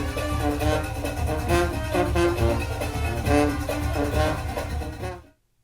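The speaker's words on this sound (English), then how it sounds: "And you can hear the Junkanoo Band in the background." A Junkanoo band plays outdoors at night in front of Atlantis on Paradise Island in the Bahamas, near yachts, its steady dense drumming and brass running loud and continuous for about five seconds before cutting off.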